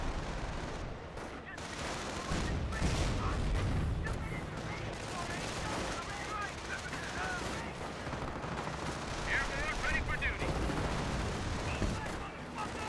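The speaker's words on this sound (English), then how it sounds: "Sector artillery in this sector hits the airborne squad." Artillery and small-arms fire in Company of Heroes, a World War II strategy game: a dense wash of overlapping gunshots, shell blasts and bursts of automatic fire, continuous and busy, with a voice talking over it.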